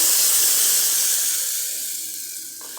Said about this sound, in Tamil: இப்போ புதினா அரைச்சி வச்சதெல்லாம் ஊற்றிடலாம்